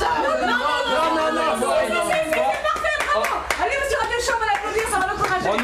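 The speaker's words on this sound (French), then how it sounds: "Allez, vous aussi, applaudissez." A theater audience claps continuously during a comedy play, a dense patter of many hands nearby, with voices chattering and laughing under the applause.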